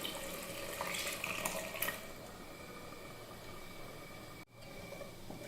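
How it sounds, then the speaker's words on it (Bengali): Thickened milk is poured into a pot of simmering rice pudding (payesh) with a soft, faint liquid splashing and trickling, strongest in the first two seconds before it settles into a quieter wash. "ঘন করে রাখা দুধটা আমি পায়েসের মধ্যে ঢেলে দিচ্ছি।"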